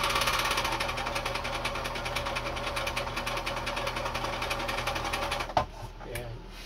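Bernina sewing machine winding a bobbin, a close, rapid mechanical whir with an even ticking rhythm that stops abruptly near the end with a clack.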